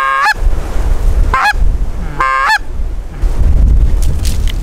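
A goose honks loudly in three separate bursts of clipped calls, with strong wind roaring and buffeting steadily underneath on open public land in Montana.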